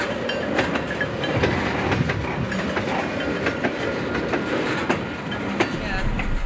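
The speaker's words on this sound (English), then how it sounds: "it's going to a different line right now" Canadian Pacific yard train with a caboose switching to a different line at Kenwood Yard in Albany, NY, giving a steady rumble of rolling cars with faint rhythmic wheel clicks throughout, fairly close and continuous.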